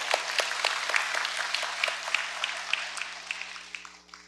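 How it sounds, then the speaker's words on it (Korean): A church congregation at a Korean Sunday worship service claps together in sustained applause that fills the room, then gradually tapers off at the end, with no speech over it. "한 박수 한번 쳐야 되겠죠?"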